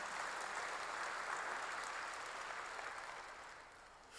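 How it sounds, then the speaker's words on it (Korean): A church congregation at a sermon gives a burst of applause, a dense, even wash of clapping heard slightly distant in the hall that gradually thins and fades toward the end. "박수로 하세요"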